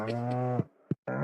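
Cows mooing on a farm in the Stardew Valley video game. A close, drawn-out low moo is followed by a brief grunt and then another moo, with no talking.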